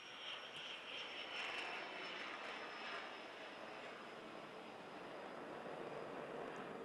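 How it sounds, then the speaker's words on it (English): A plane takes off from nearby Fort Lauderdale Executive Airport beside a stadium, a broad, steady engine roar that holds loud and even throughout with no talk. "We are close to the Fort Lauderdale Executive Airport here at this stadium. So you will hear the sounds, planes taking off."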